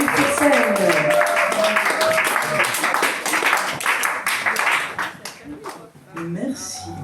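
An audience applauds steadily at a poetry and music concert in a Toulouse hall, with a voice speaking over the clapping as it gradually thins out toward the end.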